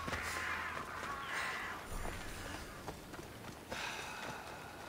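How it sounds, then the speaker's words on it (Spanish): Crows in a video game give several harsh caws in short bursts over a faint background with soft footstep-like thuds. "Ahí hay unos cuervos."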